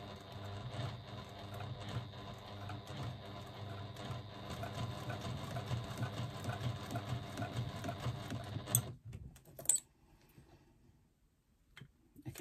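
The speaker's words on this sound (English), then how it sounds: "I'm just going to hand crank down into that corner" A hand-cranked sewing machine stitches faux leather along a seam near the edge, a steady close mechanical ticking and whirring for several seconds that then stops, followed by a few small handling clicks.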